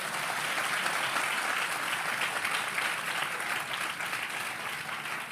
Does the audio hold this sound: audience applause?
yes